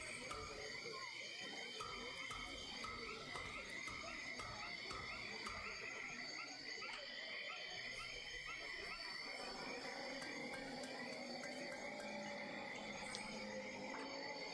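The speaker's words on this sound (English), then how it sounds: "listen to the frogs in the swamp" Frogs croak in a swamp in a dense, continuous chorus. Trilling and chirping calls layer over one another at a constant level for the whole stretch, with no one talking.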